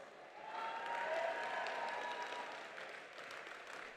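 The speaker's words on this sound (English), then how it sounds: "please let's give our band and our choir a round of applause" A graduation audience gives a band and choir a round of applause. The clapping is soft and distant, a broad steady wash with a faint sustained tone beneath it.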